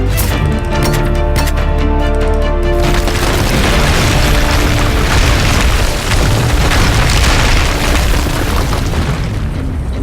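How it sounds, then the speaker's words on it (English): Heavy booming explosions in Just Cause 3 as a statue is blown apart, a loud, continuous rumbling roar with crashing debris and layered blasts that follow an earlier tonal passage. "to force Di Ravello's statue into inflicting damage upon itself."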